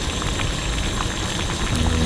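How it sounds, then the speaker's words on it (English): Lye solution boiling in a home chemistry experiment, a close, steady crackle of bursting bubbles with rapid irregular pops, continuous and fairly loud with no talk over it. "Alright, so it's boiling."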